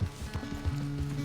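Horse hooves clop in a steady, quick rhythm as a rider urges the mount on in Red Dead Redemption 2. Each footfall is distinct and close, with a faint sustained tone beneath the beats.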